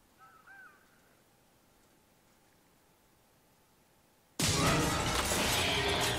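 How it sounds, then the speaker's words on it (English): Crows caw briefly and faintly in a quiet scene of the video game Resident Evil 0, then a sudden loud burst of noise like shattering or a blast cuts in and holds to the end. "Evil birds, run!"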